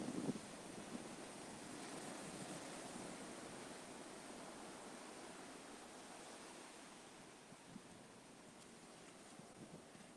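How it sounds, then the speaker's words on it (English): Steady roaring wind by the sea, with broadband gusts and surf-like rush buffeting the microphone throughout, no voices. "It's very windy this morning."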